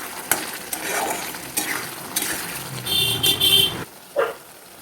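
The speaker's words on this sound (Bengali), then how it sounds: "এটাকে ভালো করে কষতে দেবো তেল উঠে আসা পর্যন্ত" Spice paste frying in oil with potatoes and cashews for a paneer curry, stirred with a spatula: scraping strokes over a sizzle, a bright horn-like tone midway, then a sudden drop to near quiet with one last scrape.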